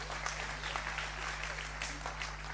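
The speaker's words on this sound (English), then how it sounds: "Yes, you can clap and applaud the Lord because it's he who does it." Church audience clapping and applauding together, a dense steady wash of hand claps from a crowd that carries on evenly for a couple of seconds.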